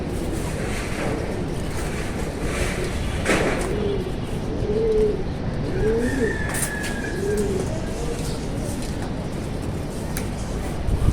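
Pigeons cooing softly in a home loft, a few rounded low coos repeating in the middle of the stretch over steady background hiss and ambient noise, with no talk.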